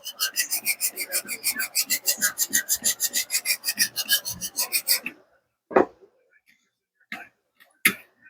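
A boat propeller blade being filed by hand, about twenty quick rhythmic rasping strokes, loud and close, stopping abruptly and followed by a few scattered clicks and knocks.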